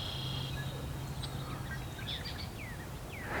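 Small birds chirping and calling in an early spring garden, scattered short tweets and whistles at moderate distance over a soft steady background hum.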